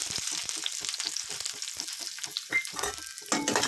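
Sliced big onions sautéing in hot oil in a kadai, a loud close sizzle broken by rhythmic stirring strokes, with a sharper crackle near the end and no talking.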